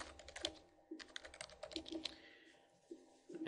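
A question being typed on a computer keyboard, a quick irregular run of light key clicks heard up close with short pauses between bursts.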